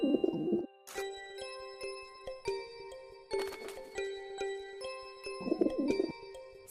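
Cartoon pigeon cooing in short bursts at the start and again near the end, set against bright chiming, tinkling tones that ring through the middle; no talking.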